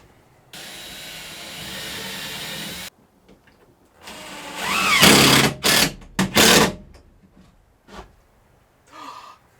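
A power drill pre-drills holes in wood during a backyard poultry build, with a steady motor whine for a couple of seconds followed by several short, loud bursts of drilling and a few quieter knocks.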